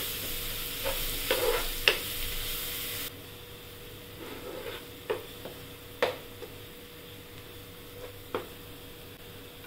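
A ground paste of green chili, coriander and garlic sizzles softly in hot oil while a spoon stirs it, making faint scrapes and clinks at irregular moments, close by and without talk.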